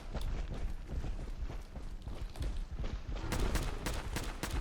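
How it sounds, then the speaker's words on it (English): Rapid gunshots while shooting Swan, a giant mutant in the video game Fallout 4, a steady string of shots that grows louder and sharper toward the end. "right now I'm busy shooting Swan in the face"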